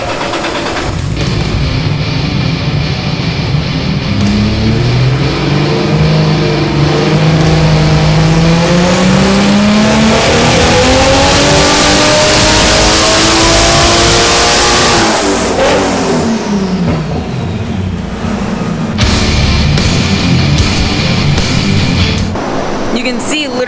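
Nissan 350Z fitted with a turbocharged 1JZ engine revving hard on a dyno, the loud engine note climbing steadily in pitch through a long pull, then dropping off as the throttle is released and the run winds down.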